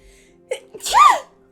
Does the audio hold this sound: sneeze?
yes